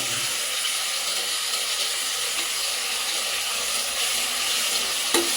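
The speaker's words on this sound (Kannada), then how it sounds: "ಇದನ್ನು ಚೆನ್ನಾಗಿ ಫ್ರೈ ಮಾಡಬೇಕು" Biryani masala frying in a pan for paneer biryani, a steady close sizzle and hiss that holds evenly throughout with a small clatter near the end.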